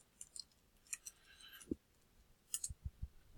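Sparse keystrokes on a computer keyboard, a handful of quiet separate clicks and taps spaced irregularly across a few seconds, faint and close with no talking.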